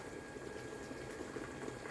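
Water boils in a pot on a stove with a faint, continuous bubbling simmer heard alone and close.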